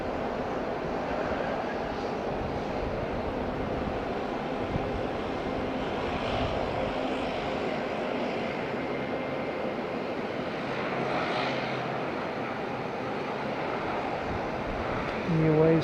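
An Airways Corporation of New Zealand aircraft, flight XFX01 arriving from Rarotonga at Auckland International Airport, gives a steady, fairly distant engine roar that holds evenly throughout with a slight swell near the end.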